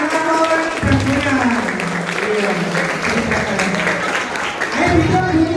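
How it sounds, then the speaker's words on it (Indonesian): An audience claps at an alumni gathering, a steady patter running the whole stretch while voices talk and call out loudly over it. "Tepuk tangan buat kawan-kawan berguna."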